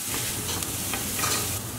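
Onion and garlic fry in a pot over medium heat for Armenian meatball soup, giving a steady, close sizzle with soft stirring scrapes throughout and no talking.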